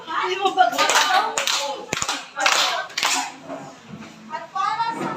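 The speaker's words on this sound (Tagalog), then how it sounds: "Bigyan natin ng 5 bagsak na palakpak ang 5 bagsak" A secondary social studies class in a teaching demonstration claps in a short, sharp rhythmic burst, quick hand claps set among lively talking from the teacher and students.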